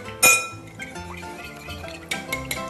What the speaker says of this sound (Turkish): Önce bir sıvıları şöyle bir karıştıralım.